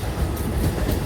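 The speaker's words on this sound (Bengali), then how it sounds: "ট্রেন থেকে নামলাম, ট্রেন চলে যাচ্ছে বর্ধমান লোকাল এটা।" A Bardhaman local train pulls away from Chandannagar station, its steady low rumble and faint clattering wheels close by, with no talk.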